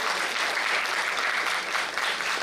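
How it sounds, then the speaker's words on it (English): Loud, dense applause from an audience at a medical college lab inauguration, a continuous roar of clapping that fills the whole short stretch. "give a big clap to the D.Y. Patil"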